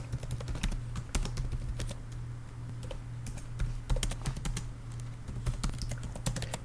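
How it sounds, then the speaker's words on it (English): Rapid typing on a computer keyboard, dense irregular key clicks close up with a low steady hum underneath, no voices. "you're going to type in that information right there"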